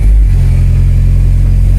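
A Mini Cooper engine running after a spark plug change, a loud, close, steady low idle with a strong low rumble.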